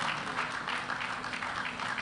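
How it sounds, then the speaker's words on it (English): Dense, sustained applause from a seated crowd at a civil service gala and awards night, an even roar of clapping held at steady volume throughout. "I think it's a good place to clap."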